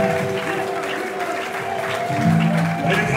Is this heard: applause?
yes